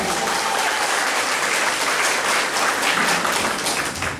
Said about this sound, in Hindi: एक बार जोरदार ताली आपने ली, जोरदार ताली।